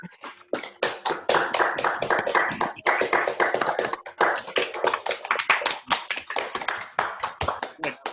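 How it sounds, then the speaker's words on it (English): Scattered hand clapping from several people on a Zoom call, uneven and slightly out of sync, with brief pauses, fairly close and continuous for several seconds. "A few unmuting and clapping hands."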